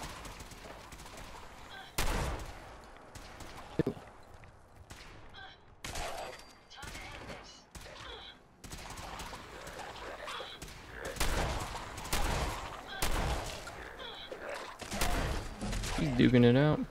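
Gunfire from the Fallout 4 Far Harbor video game comes as sharp, irregular shots and bursts over game ambience and effects, with some loud bangs standing out.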